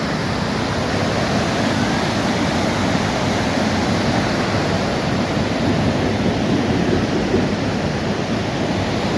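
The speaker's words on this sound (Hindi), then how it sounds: "क्या नदी, पानी का चलना कितना अच्छा है" A river in Gulmarg rushes loudly and without a break, a broad, steady roar of flowing water that fills the whole scene evenly, with no voices over it.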